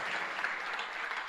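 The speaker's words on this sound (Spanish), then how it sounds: "Si va a aplaudir a Jesús, hágalo con fuerza, porque Él es el Dios de misericordia y de bondad" A church congregation applauds during a sermon, a brief, even wash of many hands clapping, moderately distant and steady.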